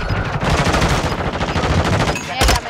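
Loud, close automatic fire from a Kastov 762 rifle in Warzone 2, a sustained rapid burst of cracking shots that ends with a sharp final blast.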